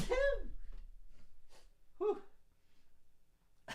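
A sharp sneeze bursts out close by, followed by breathy sniffs and a second smaller sneeze-like burst.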